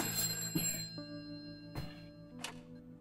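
A telephone rings twice in a prison scene from the video game A Way Out, each a short trilling burst over a quiet electronic background hum, with no speech.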